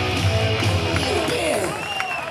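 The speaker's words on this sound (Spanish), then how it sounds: "Los aplausos." Crowd applauding and cheering at the finish line of the 2022 Segovia half marathon, a steady wash of clapping with voices and whoops mixed in throughout.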